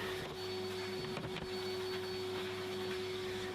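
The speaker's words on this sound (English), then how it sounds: "we can clean everything up with a vacuum" A vacuum cleaner sucks up sanding dust from MDF doors and their cut edges, a steady, close droning whine with a constant tone that runs unbroken throughout.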